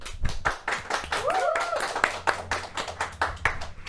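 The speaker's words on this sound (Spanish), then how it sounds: "un fuerte aplauso" A small gathering of a faith discussion program claps in fairly sparse, distinct, rhythmic hand claps, with a brief faint voice or tone partway through.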